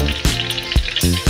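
Garlic and chili stir-fry in plenty of oil, a loud close sizzle broken by three rhythmic scraping strokes of a spatula tossing the pan, no voices.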